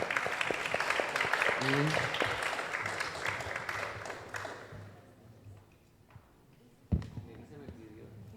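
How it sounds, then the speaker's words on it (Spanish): Applause from an audience at an academic colloquium on media and education, brisk clapping for several seconds that fades out, followed by a sharp thump and quiet room noise; speech is heard near the end. "Un reconocimiento por su participación y un aplauso a Carolina, a Melissa y a Dani."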